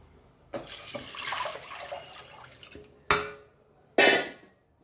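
Water running and splashing into a pressure cooker while measuring it out for half a cup of parboiled rice for Goan kanjee, with an uneven stream followed by two short, louder pours near the end.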